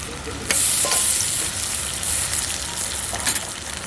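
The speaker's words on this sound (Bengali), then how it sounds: "এই পেস্টে আদা আছে লঙ্কা রসুন আর টমেটো দিয়ে দিলাম পেস্টটা" A ginger, chili, garlic and tomato paste fries and is stirred in a pan, with steady close sizzling broken by a few scraping stirs, no voices.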